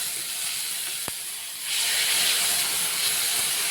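Water is poured into a hot pan of frying fish masala, made with very little oil, and a sharp steady hiss swells up after a brief click, then continues loud and close.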